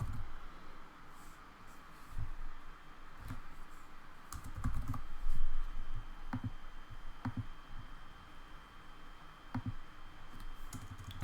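Keys clack steadily on a computer keyboard while a name is entered into a project administrator field, with a quiet, close, irregular rhythm of individual keystrokes and occasional louder taps over faint room hiss.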